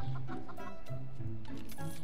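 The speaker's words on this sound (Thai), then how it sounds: "เรามาทดลองกับสัตว์ดูนะครับมีไก่2ตัว" Chickens in the block-building video game Mini World: Block Art cluck in short, repeated bursts at close range, a steady stream of pecking calls without any talk.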